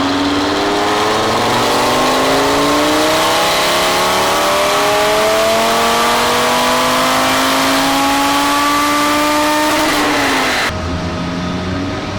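Audi RS3 tuned with a Unitronic Stage 2 93-octane file on a dyno, the engine pulling loudly with a steadily climbing pitch for about ten seconds, then abruptly lifting off and dropping back.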